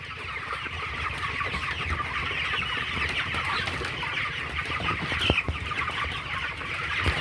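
A flock of farm chickens, around twenty-four days old, keeps up a dense, continuous chorus of clucking close by. Occasional sharper calls rise above the steady background.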